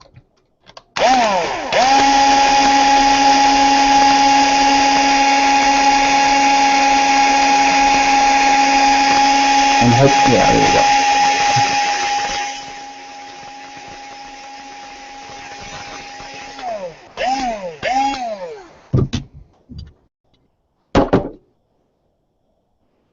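A power drill bores into steel, whining steadily at close range, its pitch holding under load, then drops and restarts in short bursts near the end; someone speaks briefly.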